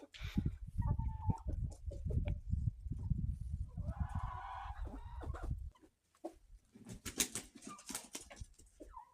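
Chickens cluck and a rooster calls nearby, with overlapping squawks and rustling, a brief lull, then more clucking and scratching.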